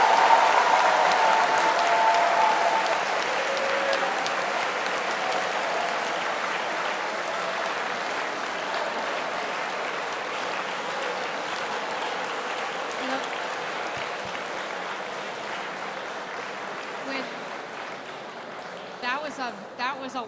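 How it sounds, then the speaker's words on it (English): Sustained audience applause after a lecture fills the hall, a broad dense clapping that slowly thins and fades over about twenty seconds, with a voice starting to speak near the end. "was a wonderful round of applause"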